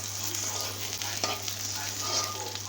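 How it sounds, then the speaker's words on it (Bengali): Green chilies sizzle and crackle in hot oil in a pan. The frying runs close and continuous, with a few scraping stirs and no voices. "আল্লাহ, দেখতে পাচ্ছেন মরিচগুলো কীভাবে ভাজতেছে।"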